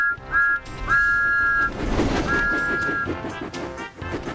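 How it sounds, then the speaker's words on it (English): An animated steam locomotive's whistle blows several times, long and short high-pitched toots with noisy background rumble between them. "Everywhere Thomas went, he blew his whistle loudly."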